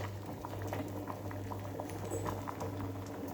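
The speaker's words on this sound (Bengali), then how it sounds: "ডালের মধ্যে লবণ হলুদ দিয়ে ডালটা সেদ্ধ হচ্ছে" A pot of lentils boiling with salt and turmeric bubbles steadily in a close, continuous simmer, with soft popping over a low kitchen hum.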